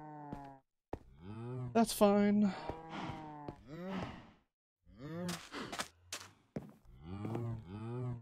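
Cows mooing in Minecraft, several drawn-out harmonic moos in a row, loud and close, with someone speaking briefly in between.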